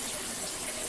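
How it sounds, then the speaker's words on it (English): Tap water gushes into a pressure cooker in a brief, steady hissing stream, close and fairly loud, with no voices. "I'm going to just put some tap water in here."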